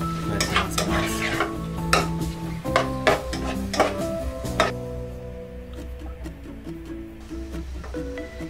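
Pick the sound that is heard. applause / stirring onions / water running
stirring onions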